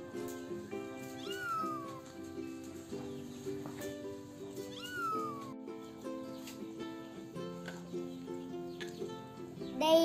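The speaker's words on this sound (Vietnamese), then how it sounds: "Mèo." A cat meows several times, short rising-and-falling calls set over a soft background melody.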